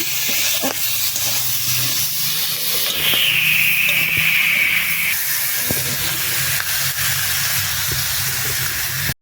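Chicken frying with salt, ginger, garlic and tomato in a pan, giving a steady loud hiss and sizzle throughout with occasional stirring clicks and a brief high whistle-like tone partway through.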